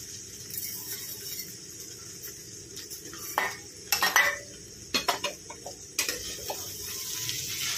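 A spoon stirring sesame seeds into bhaji in a pan, with a few sharp scrapes and clinks in quick bursts over a low background that has faint hen-like clucking.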